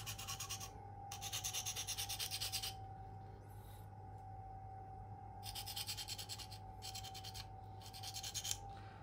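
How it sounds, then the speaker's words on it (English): A Spyderco Endura K390 knife is sharpened on a hand-held stone in close, rhythmic bursts of scraping strokes separated by short pauses, with a faint steady hum underneath. "This is how I sharpen my personal knife."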